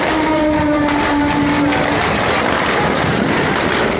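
A train rumbles past loudly with a steady, close roar of wheels and cars, its horn blaring in sustained tones for about the first two seconds, on a railway track in Amritsar during a Ravan Dahan Dussehra event.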